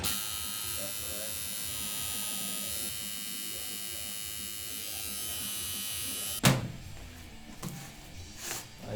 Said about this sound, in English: I choose to work with coil machines, which is the, so to say, the contemporary tattoo machine